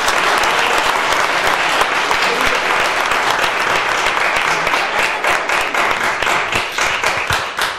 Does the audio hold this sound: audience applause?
yes